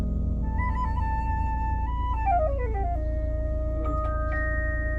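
Clear electronic melodic tones with a descending slide play through the center speaker of a Ford Ecosport fitted with a 4-way active sound system, steady and alone over a low background hum.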